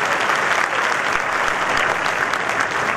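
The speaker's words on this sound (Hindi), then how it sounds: "आप एक मरतबा भरपूर तालियां बजा कर अली सतपारा को खराज अकीदत पेश करें।" An audience claps loudly and steadily in tribute to mountaineer Ali Sadpara, a dense, continuous wash of applause close by with no pauses.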